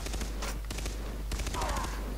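Dense automatic gunfire in Far Cry 3 multiplayer, with repeated rapid bursts crackling close by over a steady low rumble, then a brief pause before another sustained volley.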